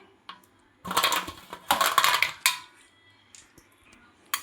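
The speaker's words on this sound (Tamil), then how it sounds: "இது கூட கொஞ்சம் நம்ம வந்து ஐஸ் க்யூப் சேர்த்துக்கலாம்." Ice cubes tumble into a watermelon milk sherbet, giving a few close, bright clinking clatters in two main bursts, then a sharp single clink near the end, with quiet pauses between.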